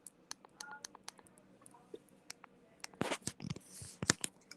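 A telephone gives off faint, quick dialing beeps, a run of short separate tones mixed with small clicks, with no voices.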